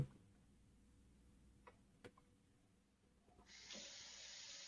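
A water tap turning on by itself indoors, starting as a sudden steady hiss of running water partway through after a quiet room with a few faint ticks.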